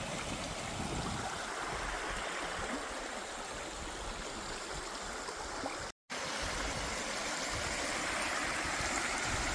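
Water rushes steadily past a beaver dam analogue on King Bolt Creek, a continuous broadband flow heard up close and alone, with a brief dropout partway through.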